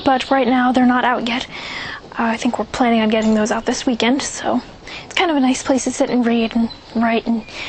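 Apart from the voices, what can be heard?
None of the usual background noises is heard.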